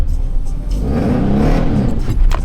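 A learner drives a manual car, and its engine revs and rumbles loudly and close up for a couple of seconds, the pitch rising and falling as the throttle shifts.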